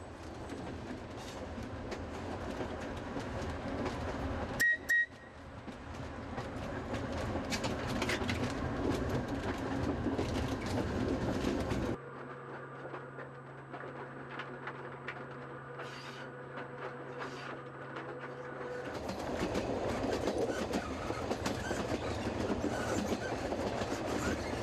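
A train on the Soller Railway in Mallorca rumbles along the tracks with rhythmic clickety-clack from the wheels, heard from inside a carriage at a moderate, steady level, with a brief clunk early on.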